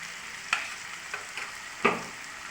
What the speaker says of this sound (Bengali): আদাটাও একটু নেড়ে নেব।